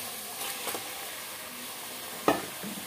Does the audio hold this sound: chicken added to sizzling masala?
yes